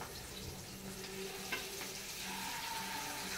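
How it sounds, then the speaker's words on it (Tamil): Fish frying in a pan of oil, a faint, steady sizzling crackle with a low background hum and a small clink partway through. "மீன் வந்து பொரிஞ்சுக்கிட்டு இருக்கு."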